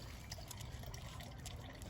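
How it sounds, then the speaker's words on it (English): Coolant draining from the radiator drain valve of a Toyota Tacoma into a bucket, a faint, steady trickle and splash that runs continuously for a brief moment. "you open up the drain valve and drain the fluid into a bucket."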